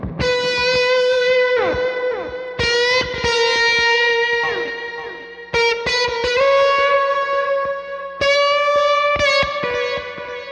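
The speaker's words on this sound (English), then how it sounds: "I also have a long delay," Sustained electric guitar notes through a Boss DD-3 delay pedal on a long-delay setting, each repeating in long echoes that trail into one another, played alone with a wash of lingering repeats.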